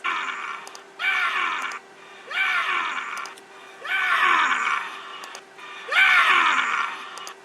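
Recording of a politician's famous scream, played back as four loud bursts of shouted, rising voice roughly a second apart, each with a sharp yelling edge over a steady background hum.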